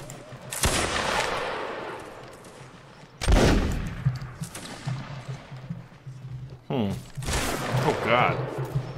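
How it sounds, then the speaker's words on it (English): Mortar fire and repeated musket shots in Mount and Blade Warband Napoleonic Wars, during a battle around a gatehouse, with heavy blasts at intervals, one of them sharp and loud, over continuous battle noise and someone talking. "Fire the mortars, bastards!"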